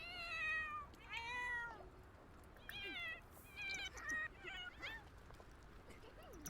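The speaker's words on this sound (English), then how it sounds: "the cat distracted me" Several clear, drawn-out meows from a cat follow one another in irregular bursts, set against Sims 4 game sounds, with faint talking in places.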